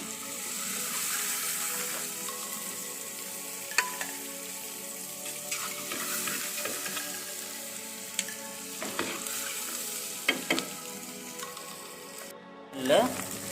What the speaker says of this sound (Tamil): இப்போ நல்லா ஃப்ரை ஆகிட்டு இருக்குது